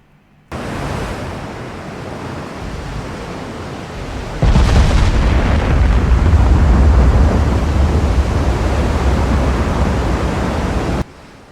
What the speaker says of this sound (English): those were Kansas's 18-inch guns opening up